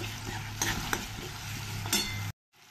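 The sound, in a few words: onion and ginger garlic paste frying with stirring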